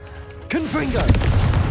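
A Confringo blasting spell in a Harry Potter video game goes off as a sudden close boom after a quiet start, followed by a swooping tone and a rumbling, crackling tail.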